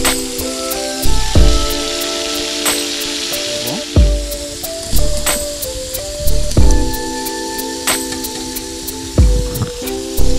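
Large onions sizzle and crackle steadily in hot oil for a village-style country chicken biryani, loud and close, with repeated stirring scrapes and clatters at regular intervals.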